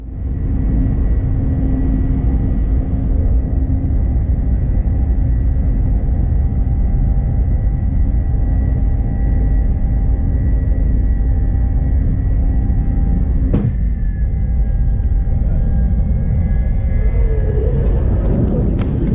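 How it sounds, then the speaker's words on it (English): Loud, steady roar of a jet engine fills the whole clip, a low rumble building as an airliner speeds up down the runway for takeoff, with a brief sharp bang partway through before the takeoff is aborted. "The plane taxied to the main runway and hit the gas."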